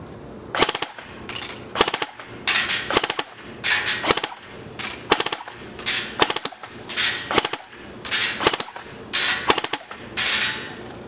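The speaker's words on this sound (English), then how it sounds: "I'm gonna just keep the gun on full auto here and try to do 3-round burst." An ICS SIG 552 airsoft gun fires short 3-round bursts, each a fast clattering rattle of sharp mechanical snaps, repeated about every second across the clip, loud and close with no talking.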